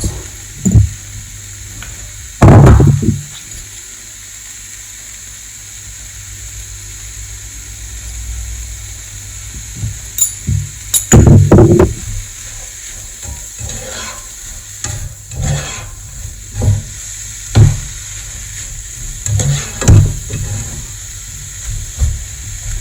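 Cauliflower rice sizzling in a frying pan with salt added, a soft steady hiss broken by scraping stirs and clatters from a utensil against the pan, some bursts louder and close.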